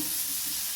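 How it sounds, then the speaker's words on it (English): Capsicum goes into a pan of boiling wet-fry pork, giving a steady, close hiss of sizzling and bubbling that holds evenly throughout the short moment. "at this point is when I add my capsicum"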